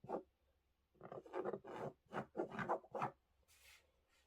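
Rotary-style cutting of fabric along a ruler on a cutting mat for a pillow sewing project: a series of short, quiet rasping strokes in close succession, close up, with no talking.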